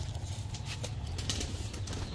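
Pakistani red plane pigeons, a male among them, cooing softly and steadily in low, throaty tones, close by and faint, with little else around.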